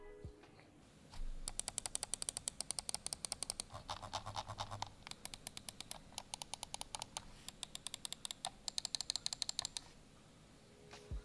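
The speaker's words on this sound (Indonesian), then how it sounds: "Dia switchnya udah pakai Huano Blue Shell Pink Dot yang lifetime-nya itu di 80 juta kali klik." Rapid bursts of crisp computer mouse clicks from Huano Blue Shell Pink Dot switches, close and quiet, in quick uneven runs with short pauses between.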